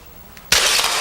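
Glass shatters suddenly and loudly inside a derelict, collapsing old house, a sharp crash at mid-clip followed by a sustained bright spray of falling shards, preceded by a faint quiet moment.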